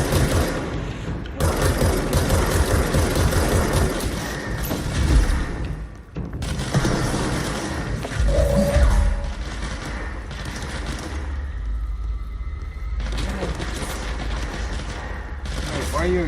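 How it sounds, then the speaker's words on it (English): Gunfire in the action video game Control, with dense bursts of rapid shots and booms in loud stretches broken by brief pauses, mixed with game sounds. "Shooting at each other."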